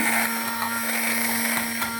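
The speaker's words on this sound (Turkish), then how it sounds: "Ayrı bir kapta erittiğim tereyağına doğradığım maydanozları koyup blenderdan geçirdim" Electric blender whirring as it purees chopped parsley with melted butter, a steady high motor whine with slight pulsing, close and continuous throughout.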